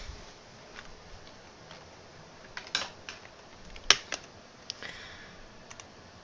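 Typing on a computer keyboard, a few quiet scattered keystrokes and clicks at an irregular pace, with a couple of sharper, louder taps, against a near-silent room.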